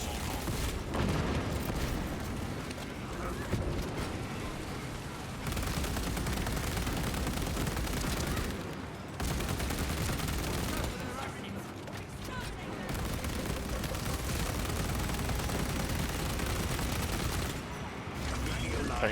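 Bolt carbine gunfire in the Space Marine 2 video game, dense and continuous rapid shooting with booming impacts that fills nearly the whole stretch, broken by a couple of brief lulls.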